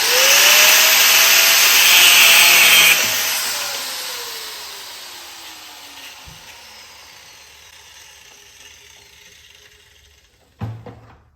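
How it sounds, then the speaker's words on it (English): A power tool cutting metal gives a loud high grinding whine that runs for a few seconds, then winds down with a falling pitch and fades into quiet, ending with a brief clunk. "it cuts metal quick"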